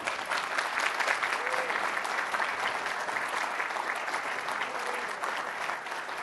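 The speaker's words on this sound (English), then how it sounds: "he should be given a very warm round of applause for that" An audience in a conference ballroom applauds warmly, with a dense, sustained wash of clapping that holds steady throughout at moderate loudness.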